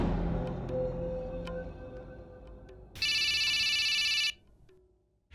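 A telephone rings loudly in a steady, continuous burst that stands alone after a stretch of quiet background noise from an indoor scene, then cuts off abruptly.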